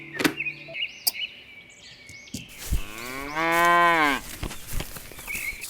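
Cattle moo on a model farm diorama: one long, loud, close moo fills the middle of the clip, preceded by some light clicks and faint chirps.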